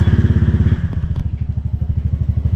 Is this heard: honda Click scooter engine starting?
yes